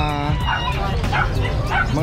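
Shih Tzu dogs with choco liver coats at a seller's place in Valenzuela bark and yip close by in quick repeated bursts, about three sharp barks in two seconds over steady background noise.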